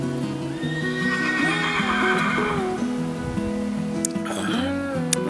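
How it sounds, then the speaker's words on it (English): A horse whinnies loudly and close by outdoors, with a long wavering neigh followed by a second shorter call, and there is some faint background noise. "neighbor's horse don't like me being over here, evidently"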